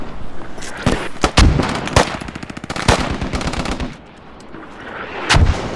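Gunfire rattles through an assault on an Iraqi city in the video game Squad, played on the US Army side. Loud automatic bursts and sharp single shots come in clusters, nearby and then farther off, with no voices.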